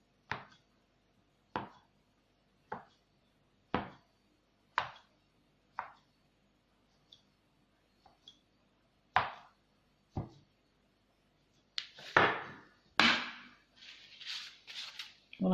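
A knife cuts through soft makroud semolina dough on a board, giving about a dozen sharp, evenly spaced chops with quiet gaps between them, growing busier and more cluttered toward the end.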